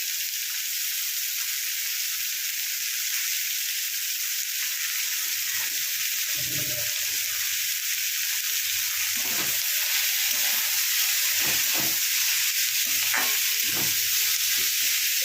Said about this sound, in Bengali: ভালো করে পেঁয়াজটা ভেজে নিয়ে ফেরত আসি